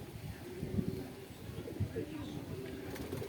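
Pigeons coo softly in a home loft, low throaty burbling calls repeating under a voice, fairly quiet against a background hum.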